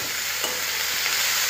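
Chopped, washed spring onion greens hit a hot pan and sizzle loudly, a dense even hiss that holds steady throughout with only slight crackles.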